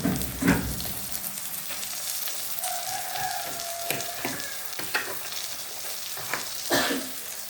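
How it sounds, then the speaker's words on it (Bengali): Dried fish and onion fry in a pan with a continuous sizzle, broken by intermittent scraping and stirring clatters close by. "আমার সাথে সাথে শুটকির ভাজা ভাজা হয়ে গেছে, দেখেন ভাজা ভাজা হয়ে গেছে"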